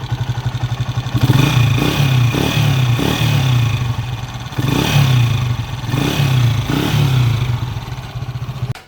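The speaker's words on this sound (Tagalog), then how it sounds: "kapag ganun ang andar ng inyong TMX 155 or kahit anong diffuse rod na motor" A TMX 155 motorcycle engine runs close by, a loud, rapid thumping idle broken by repeated short revs and clattering, with no talk.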